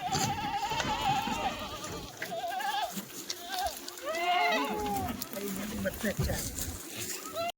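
Several hungry Kathiawari goats bleat repeatedly, some close and some farther off, overlapping with one another amid background chatter.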